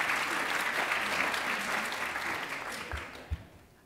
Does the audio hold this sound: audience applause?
yes